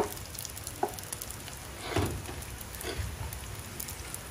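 Chorizo sizzling in a frying pan alongside browning siomai, a faint steady hiss of oil with a few soft knocks and brief louder crackles near the middle.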